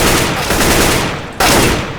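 Continuous rapid rifle fire in the game Counter-Strike: Global Offensive on a practice map, a dense, loud spray of shots with a sharp burst about midway and no talk.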